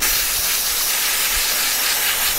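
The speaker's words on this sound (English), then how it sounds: "I'm now just going to use this WD-40 degreaser and see what this does" WD-40 degreaser sprayed onto mountain bike components of a Felt Q720, a loud, steady aerosol hiss lasting throughout the short burst, close to the can with no talking.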